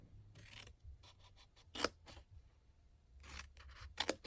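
Scissors snip a sliver from a paper card box in a quiet room: several short, close cutting crunches and soft paper rubs, with a couple of sharper snips in irregular bursts separated by silence.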